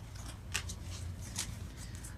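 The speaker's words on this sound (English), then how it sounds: "we're gonna go ahead and shuffle that again just to be sure" Tarot cards are shuffled by hand, giving soft papery riffling and a few crisp card snaps in an irregular rhythm at close range, with no voices.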